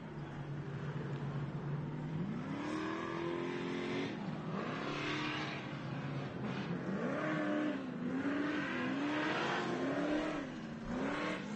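Short course race trucks accelerate at Glen Helen, engines revving and climbing through gears in repeated rising sweeps, a loud continuous roar from several vehicles at a distance with no talk.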